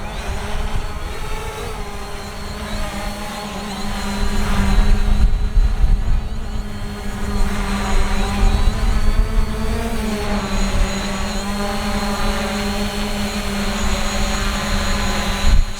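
Hubsan Zino drone hovering close overhead in wind as it is brought in for a hand catch, a steady whining buzz of rotors that swells and shifts in pitch while it holds near.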